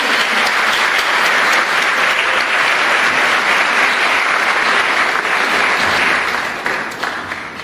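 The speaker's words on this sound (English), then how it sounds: "Another round of applause." A large audience at a school district arts awards ceremony breaks into sustained, loud applause, steady and dense throughout before tapering slightly at the end, with no voices over it.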